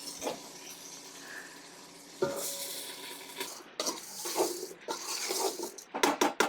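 Sambar tempering cooking in hot oil in a home kitchen, with soft sizzling alongside stirring scrapes and clinks of a pot and utensils, a few louder metallic knocks toward the end.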